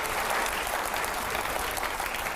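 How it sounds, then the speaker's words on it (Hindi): Steady, dense audience applause at a televised debate-style show, many hands clapping evenly and loudly for a couple of seconds without a break. "जोरदार तालियां हो जाए जरा,"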